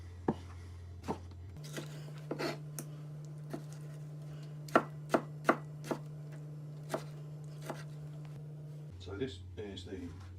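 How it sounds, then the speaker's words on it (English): Ripe, windowsill-ripened tomatoes being coarsely chopped with a sharp knife on a board, a series of crisp, irregularly spaced thunks close by over a steady low hum. "So nice ripe tomatoes ripened on the windowsill, just coarsely chopping them."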